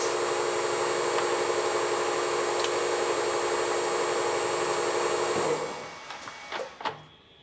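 A drill bores a spot-faced hole into a Chevy inline-six cylinder head in a head shop, a steady high machine whine and hum that runs continuously, then winds down into a few clunks and scrapes.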